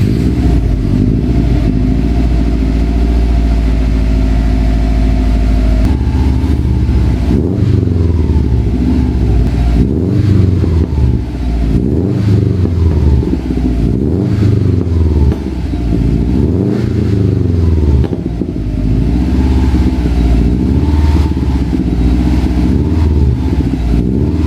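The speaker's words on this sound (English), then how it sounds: "we're going to rev the engine and purge any of that soot out through the exhaust" A Subaru WRX engine revs repeatedly to purge soot after upper engine cleaning, rising and falling in bursts over a steady idle, loud and close, with no talking.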